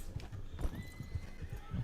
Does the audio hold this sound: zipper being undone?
no